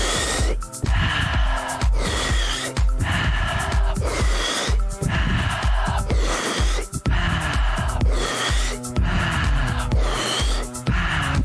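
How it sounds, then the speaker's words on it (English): Deep breathwork inhales and exhales, each breath about two seconds long, repeat in a steady, loud, close rhythm with no talking. "inhaling deeper and exhaling deeper as well"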